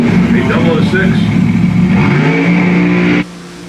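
Drag racing cars at Lebanon Valley Dragway during an NHRA Division 1 event roar loudly with a rising engine howl, heard under a fast-talking announcer before the sound cuts off sharply near the end.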